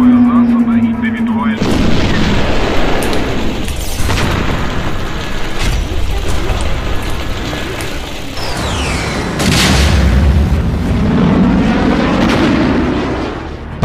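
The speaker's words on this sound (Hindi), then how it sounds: "बम बरस रहे हैं," Heavy booms and blasts of wartime bombardment in Ukraine, with rumbling explosions, scattered gunfire bursts and a whistling incoming shell, loud and echoing across a ruined city over several seconds.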